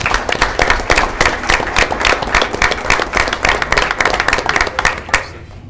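Steady applause from a group at a school board of education meeting, brisk overlapping clapping lasting about five seconds and then tapering off.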